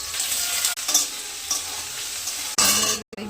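Sago, potato and ginger fry in hot oil with a loud, continuous sizzle broken by stirring scrapes and a sudden fresh burst of spitting near the end.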